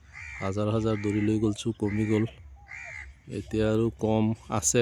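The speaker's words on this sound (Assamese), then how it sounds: "আৰু এইপিনে কাউৰীয়ে কা কা কৰি আছে" Crows caw repeatedly on a foggy morning in a village, sharp harsh calls cutting through someone talking nearby at close range.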